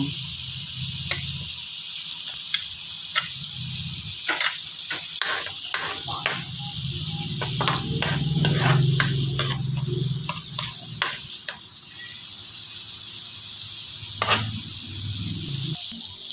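Garlic sizzles in melted margarine in a pan, a continuous close hiss with repeated clicks and scrapes from stirring and a low background hum.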